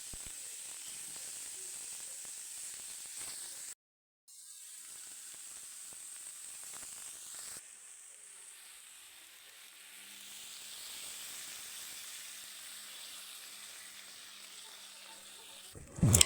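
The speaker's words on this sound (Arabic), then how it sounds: "صافي فاش كيتقلى لينا، المهم كنحمرو مزيان" Chicken pieces fry in a hot pan with spices, giving a steady soft sizzle and hiss that runs for about sixteen seconds, briefly dropping out once before resuming, with a sharp clatter at the very end.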